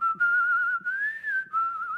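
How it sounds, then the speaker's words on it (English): Whistling sits in the background of a song as a clear, melodic tune in three short phrases separated by brief breaths, gliding gently up and down, alone and fairly close. "you can actually hear the whistle in the back"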